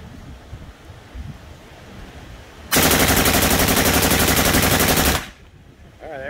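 A suppressed AK-type rifle fires one loud, continuous full-auto burst of about two and a half seconds. Quiet outdoor wind noise comes before and after it.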